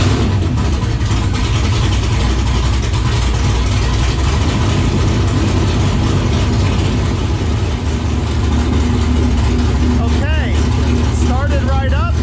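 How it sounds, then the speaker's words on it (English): A V8-swapped Camaro runs at a steady, loud idle after starting, with a constant low rumble filling the clip and brief higher whines near the end. "Now it's time to start it up."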